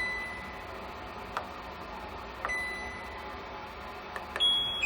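Hopcat brewing controller giving a few short, faint electronic beeps as its buttons are pressed, spaced irregularly over a quiet low hum with no talk.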